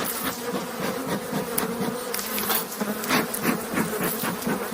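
Honeybees buzz steadily and densely at close range during a hive inspection that checks brood and stores, forming a continuous swarming drone with no talk.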